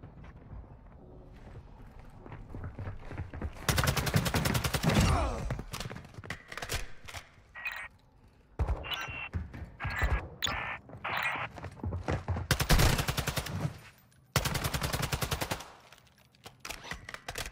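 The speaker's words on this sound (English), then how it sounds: "You are taking effective fire." Video game firefight in Building 21: bursts of rapid automatic gunfire in several loud volleys, with scattered single shots and quieter gaps between them.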